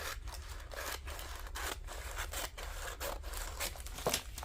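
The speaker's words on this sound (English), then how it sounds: "I'm just going to use my scissors to kind of cut this first" Scissors snip through glassine paper in a quick series of short, crisp cuts, close and quiet, with soft rustling between strokes.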